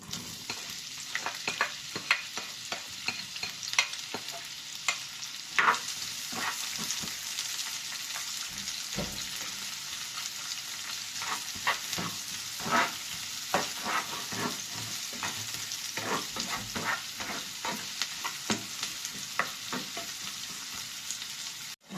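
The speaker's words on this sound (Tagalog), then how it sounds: "Ayan po natin ng konting mantika. Atin po ipiprito ang ating sibuyas." Onions frying in a little cooking oil in a pan, a quiet, steady sizzle with irregular crackles and pops over a long stretch, close and without talk.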